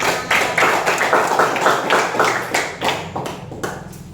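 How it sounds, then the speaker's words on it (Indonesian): A class of fifth-grade pupils claps for a classmate named Rima, a few seconds of rhythmic, fairly loud hand claps from a nearby group in a classroom, with no talking. "Tepuk tangan untuk Rima"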